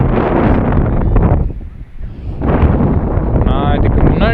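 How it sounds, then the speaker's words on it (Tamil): Strong wind at Marina Beach buffets the microphone in a loud, continuous roar that drops briefly then surges back. "செம்மையாக காற்றடிக்குது"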